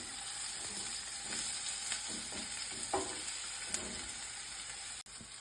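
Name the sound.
fish frying in oil in a pan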